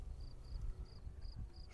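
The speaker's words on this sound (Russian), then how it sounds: "что там сверчки, кузнечики стрекочут, маки цветут, трава шелестит" Crickets and grasshoppers chirp in a summer field, with about five short, high, evenly spaced trills over a low rumbling background, faint and unaccompanied by voices.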